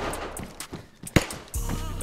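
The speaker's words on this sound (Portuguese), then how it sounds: "Você que atirou?" A gunshot rings out in the video game DayZ, one sharp, loud crack amid quieter in-game sounds and some brief lower thumps.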